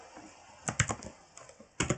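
Keys clatter on a computer keyboard while an IP address is typed: two short bursts of quick, close keystrokes separated by a brief pause, with no voices.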